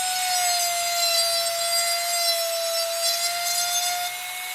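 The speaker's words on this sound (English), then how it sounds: "Literally trying to grind right up to that line." Power tool grinding a wooden goldfinch carving, a steady high-pitched whine with a constant tone and gritty rasp, continuous and close, easing slightly in pitch and loudness toward the end.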